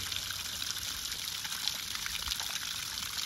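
Water from a Harbor Freight pump steadily pours and trickles into a small pool, a continuous soft splashing wash at moderate distance with no voices.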